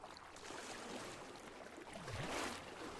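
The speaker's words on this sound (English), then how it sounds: "Wading through the blue Kool-Aid water" Footsteps wading through pool water in the Poolrooms video game, a soft continuous swish and slosh at low volume with a brief surge near the end.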